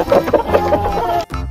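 A synthetic video game rooster call with clucking, loud and close, ending in a brief gap followed by a short burst of sound.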